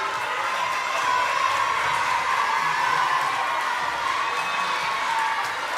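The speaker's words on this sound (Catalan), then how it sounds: "un fort aplaudiment als músics que ens han acompanyat avui" Audience at a collaborative tango concert applauding the musicians, a steady distant wash of clapping with some cheering, moderately faint and even throughout.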